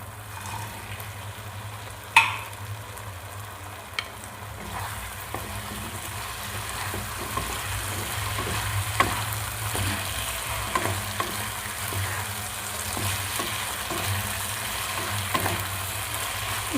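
Chicken pieces for chilli chicken frying in a pan and stirred with a wooden spatula: a constant hissing sizzle over a low hum, punctuated by scattered clacks and scrapes, one louder knock near the start, no talking.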